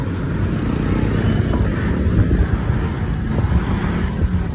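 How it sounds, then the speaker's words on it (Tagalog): Strong wind buffets the microphone in a loud, rumbling roar with constant low gusting, alongside the faint wash of passing traffic. "Ayan, lakas ng hangin."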